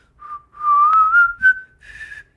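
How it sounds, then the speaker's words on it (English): A lone person whistles a short wavering phrase of a few notes that slide upward, faltering between them, close and clear against silence. "Can you whistle?"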